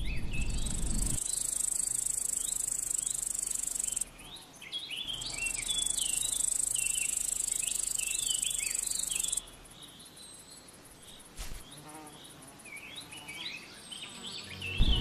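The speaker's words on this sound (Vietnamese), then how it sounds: "Cứ khi nghe thấy tiếng châu chấu kêu thì khu vườn cũng bước vào thời kỳ cuối năm." Grasshoppers chirp in an autumn garden, a loud, dense, shrill insect trill that cuts off abruptly, resumes, then gives way to quieter chirps, with scattered bird calls behind.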